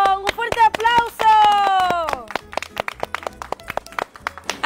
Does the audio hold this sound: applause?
yes